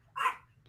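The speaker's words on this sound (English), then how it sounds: "Sorry, my dogs keep barking." A dog at home gives one short, sharp bark at moderate distance against a quiet, low background hum.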